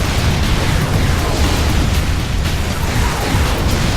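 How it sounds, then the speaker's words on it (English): A nuke detonates in Unreal Tournament 3 during a War match, a loud sustained roaring blast filling the whole stretch with dense low rumble and no let-up. "And they got a nuke coming in."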